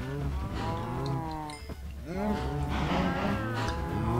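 Several Minecraft cows moo one after another, long low bellowing calls that overlap at close range, with a brief scuffling hit in the middle.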